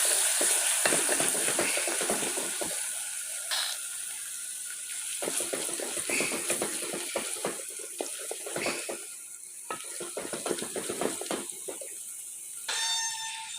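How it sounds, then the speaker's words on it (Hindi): Garlic ginger paste frying with golden onions in a pan, a steady hissing sizzle broken by scraping stirs and clattering spoon strokes, close and continuous throughout. "अब हम डालेंगे लहसुन अदरक का पेस्ट, भूनेंगे 4 से 5 मिनट।"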